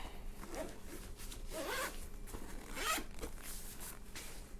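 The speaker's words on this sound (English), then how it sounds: "zip it up" A protective planner case zipped closed: a close, quiet zipper pull in a few rasping strokes over several seconds.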